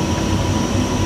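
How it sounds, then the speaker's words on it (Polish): A passenger train pulling into the station at Domaszków on the line to Międzylesie, a loud, steady rolling rumble close by with no voices. "wjeżdża właśnie pociąg do Międzylesia"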